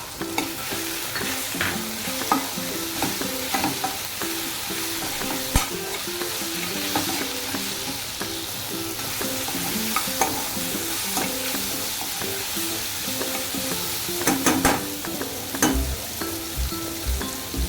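Cashews and salt cooking in a pan for paneer butter masala, giving a steady close sizzle with bursts of stirring and scraping throughout. No voices are heard.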